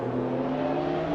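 A 2015 Porsche 911 engine in a racing video game, a steady, sustained mechanical drone at high revs, loud and unbroken, with no speech.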